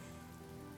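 Rain falls steadily in the Honkai Star Rail video game, a dense, even hiss of rain on surfaces, faint and continuous over a low tonal background.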